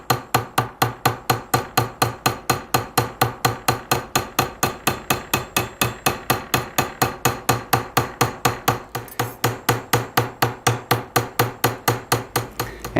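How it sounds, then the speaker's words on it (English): Steady hammer blows beat a cut-out metal leaf to make it curl, a fast even rhythm of sharp close strikes that runs on for over twelve seconds with only a brief pause near the end. "the more I hammer it, the more life the leaf will get, because it'll start to kind of curl and turn on its own from being hammered"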